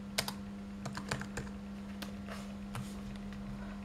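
Keys clacking on a computer keyboard as a location is typed into a PC map search, a sparse run of separate key taps over a steady background hum, with no talking.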